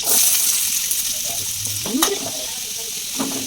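Onions and green chillies frying in a pan with mustard seeds, a steady close sizzle with intermittent scraping strokes of a spatula, no talking.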